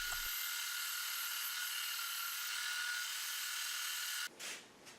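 A power sander grinding steadily against a wooden segmented platter, a continuous high whine held close and even for several seconds, then cutting off abruptly into quiet handling noise.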